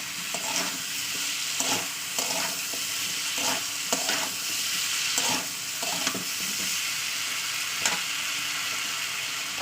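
Vegetables sauté in oil with turmeric and salt, a continuous sizzle broken by repeated scraping stirs of a spatula in the pan, close and steady throughout.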